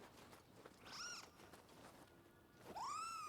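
A cat in the samurai action game Nioh 2 gives two short, faint meow-like calls, about two seconds apart, over quiet background noise with no voices.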